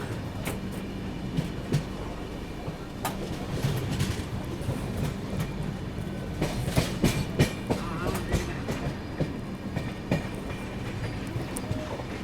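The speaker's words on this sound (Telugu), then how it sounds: "భూపాల్ నుండి బిలాస్పూర్ వెళ్ళే ట్రైన్ ఇప్పుడే ఇంకొద్దిసేపట్లో ఇది మూవ్ అయిపోతుంది" Train on the Bhopal to Bilaspur route standing at a station platform shortly before departure, with a low continuous rumble, scattered clanks and knocks, and a busy background murmur of the surroundings.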